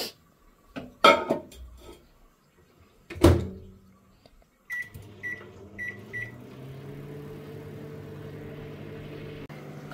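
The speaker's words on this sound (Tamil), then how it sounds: "இதை மைக்ரோவேவில் ஒரு ஃபியூ மினிட்ஸ் வச்சு லைட்டாக வேக வச்சு எடுத்துன்ட்டு" A microwave oven cooking cut beans: door clunks and handling knocks at first, then a series of short beeps, followed by the steady low hum of the oven running; no talking.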